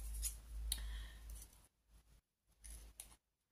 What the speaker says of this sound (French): Je vais couper les pétales là, qui me gênent, qui vont dépasser.